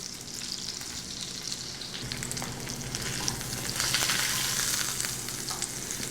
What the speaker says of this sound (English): So I'm sauteing the filet on both sides